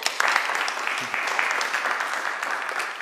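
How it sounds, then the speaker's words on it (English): An audience applauding a law professor after an academic forum lecture, a steady round of clapping from a moderate-sized crowd, close and fairly loud, lasting the whole stretch with a slight fade near the end. "But let's give Professor Soucek quite a round of applause."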